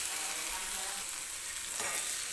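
Cooked guar beans being mixed with crushed peanut powder in a hot pan, a steady close sizzle with soft stirring scrapes throughout, no talk.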